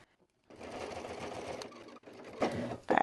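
Sewing machine back stitching a seam on a quilted market bag, starting after a brief pause with a close, rapid mechanical whirr, a short stop, then another run of stitching ending in clicks.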